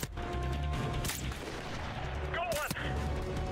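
Gunfire in the video game Call of Duty: Modern Warfare Remastered: a couple of sharp, loud shot bursts ring out over a steady in-game background rumble and clatter, with no voice over them.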